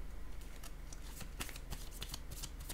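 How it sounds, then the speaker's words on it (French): A tarot card laid down on a table: soft, close papery rustling with a few light slaps and brushes over a steady hiss. "Je vais déposer une carte sur celle-ci."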